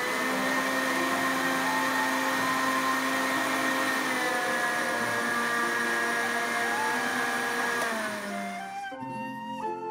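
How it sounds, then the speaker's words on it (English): A blender whirs steadily as it purees celery stalks with water, a loud motor whine holding an even pitch before it winds down and drops away near the end. "Turn on blender."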